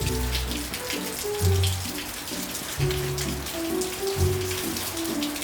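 Pouring rain during a long-distance bicycle ride, steady patter and hiss of drops with low rumbling bursts of passing spray or wind, no voices.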